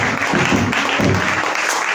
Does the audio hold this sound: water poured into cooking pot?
no